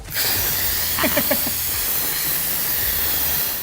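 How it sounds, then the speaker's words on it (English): A strong, steady hiss of steam rushes from an Instant Pot during a quick pressure release, loud and close, holding constant for several seconds with a few brief clicks near the start. "we're gonna turn it over to a quick release"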